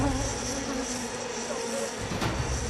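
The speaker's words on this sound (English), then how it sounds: "The bees get into everything, even under the hood of our cameraman, Eric, and into his ears." A swarm of bees buzzes thickly around people outdoors, a steady, close, dense droning hum that holds without a break and fills the whole stretch.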